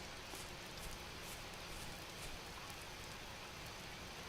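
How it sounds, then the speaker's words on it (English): Steady rain falls across an open landscape in the survival game Vintage Story, a soft, even hiss of drops that stays faint and constant throughout, with no other sounds rising above it. "Oh, it's raining again."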